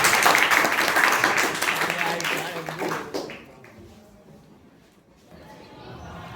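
Students in a math class clapping loudly together, a burst of group applause for about three seconds that fades, followed by quieter room noise and a voice speaking.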